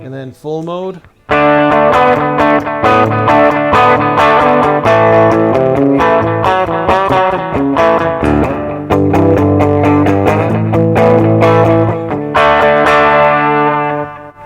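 A Tease SBH-E Tele-style electric guitar on its bridge pickup in full humbucking mode, a loud, thick, slightly driven tone with busy picked phrases and sustained chords played close, a short note flurry opening before the main passage.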